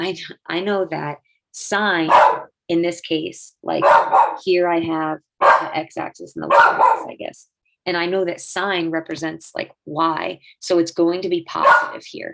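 A dog barks repeatedly in the background of a home math tutoring session, its yips partly buried under a person's steady, continuous talking.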